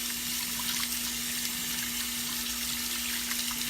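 Steady running water pours from a tap over a sink while hands are washed with soap, a constant close splashing rush with a faint hum beneath and no talking.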